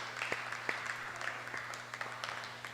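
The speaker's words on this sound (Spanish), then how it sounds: "Dele un fuerte aplauso al Señor." Congregation at a church service claps in a dense, steady burst, with a few louder individual claps popping out and a low electrical hum underneath; moderately distant and fairly quiet.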